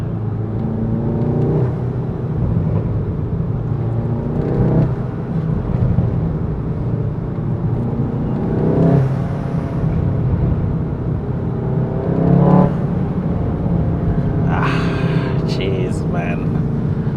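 A VW Golf 7.5 R engine and exhaust drone steadily from inside the cabin, with repeated throttle surges and shifts while people talk over it.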